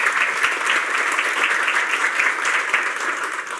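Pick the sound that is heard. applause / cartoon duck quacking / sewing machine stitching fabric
applause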